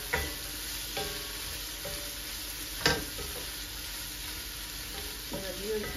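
Vegetables sizzle in a pan with a steady frying hiss, broken by sharp scraping clicks as they are stirred a few times.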